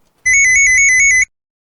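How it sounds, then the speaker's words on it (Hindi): A mobile phone ringtone chirps loud and close in a rapid, evenly pulsed electronic trill lasting about a second, then stops abruptly into silence. "मेरा फोन बज रहा है"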